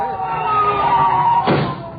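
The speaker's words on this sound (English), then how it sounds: "You hear that siren?" A wailing siren rises and falls in the distance, steady for two seconds, with a brief burst of noise near the end.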